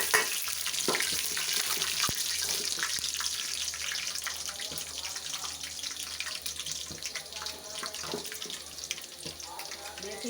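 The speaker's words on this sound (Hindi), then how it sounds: "मेथी दाना कलौंजी हमारी भून चुकी है" Fenugreek and nigella seeds frying in hot oil, a continuous hissing sizzle with scattered crackles and pops, close and fairly quiet, no talking.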